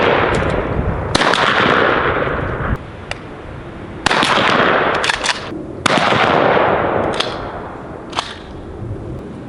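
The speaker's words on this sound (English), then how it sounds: "We're going to test out these the 20 gauge and the 12 gauge." Several 20 gauge and 12 gauge shotgun blasts fired outdoors on a turkey-scouting range in Maine, each a loud sharp report at irregular intervals, with outdoor ambience between shots.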